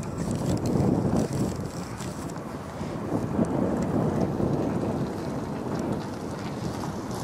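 Steady wind buffeting the microphone outdoors near a heron rookery, a loud continuous low rumble with gusty swells that fills the whole stretch, with no voices.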